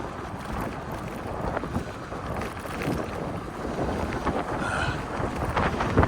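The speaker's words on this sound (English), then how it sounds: "crosswind coming through" A cold crosswind buffets the microphone outdoors, producing continuous low rumbling roar and gusty flutter throughout, loud and close with no talking.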